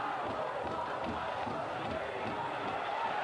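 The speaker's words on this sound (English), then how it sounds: "Jam-packed crowd as it always is here at Keyworth." A jam-packed stadium crowd at Keyworth Stadium during a Labor Day weekend soccer match between Detroit City FC and Memphis 901 FC, a steady dense roar of many voices filling the space without a break.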